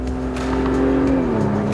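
A 2021 Acura TLX A-Spec with a 2.0-liter turbocharged four-cylinder K20C engine, a steady droning engine note heard from inside while driving, shifting slightly in pitch partway through, with no talk.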